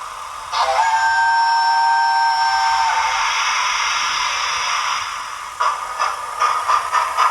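A Hornby model steam locomotive fitted with TTS sound gives a long, loud whistle that slowly fades, then chuffing and hissing start up with irregular pulses, heard alone.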